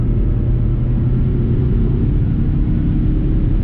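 Turbocharged engine of a 2022 Mazda 3 Turbo sedan accelerating under part throttle, a steady, deep, loud rumble held throughout with no voices.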